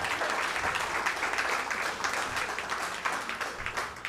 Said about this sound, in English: Clap for him one more time